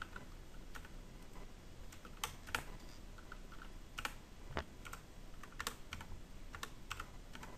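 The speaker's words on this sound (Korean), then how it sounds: "컨트롤 키 눌러서 컨트롤 T 한 다음에 컨트롤 키 눌러서 이렇게 조절을 해주셔야 돼요" Computer keyboard keys pressed for Ctrl shortcuts while editing an interior night scene, sparse close clicks and taps spaced irregularly over a quiet background, no voices.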